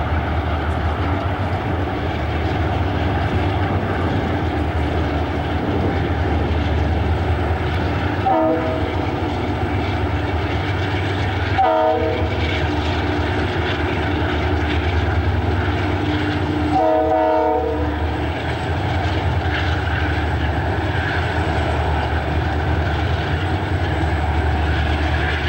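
Eastbound Union Pacific freight pulling out of a Roseville yard, led by a UP C41-8W with an SP B30-7, UP SD40-2 and tunnel motor trailing; steady loud diesel rumble with wheel noise and several horn blasts partway through.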